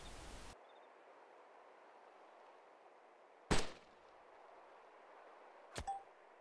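A DMR sniper rifle fires in DayZ: a single sharp, loud crack at mid-clip, then a fainter second impact-like snap near the end, over a steady quiet hiss of background noise.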